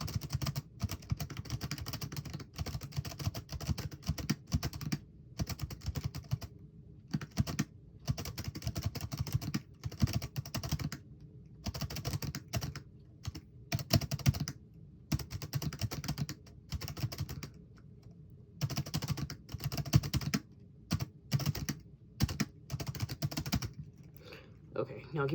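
Keys clack in quick irregular bursts with short pauses as someone types on a BrailleNote Apex braille keyboard, close and fairly soft.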